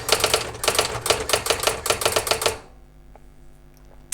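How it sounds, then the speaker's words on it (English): Keys clatter on a Brother AX-15 electronic typewriter in a quick, regular burst of crisp strikes for about two and a half seconds, then stop, leaving a faint hum and a single light click. "I'm just going to type some words."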